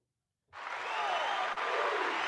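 A burst of crowd applause snaps in abruptly from silence and carries on as steady, dense clapping, loud and close, with a tiny dip partway through.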